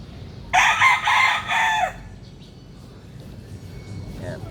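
A Kara Chi line hen, a green-legged gamefowl kept for breeding, gives a loud close crow-like call lasting over a second, followed by quiet ambient farmyard noise.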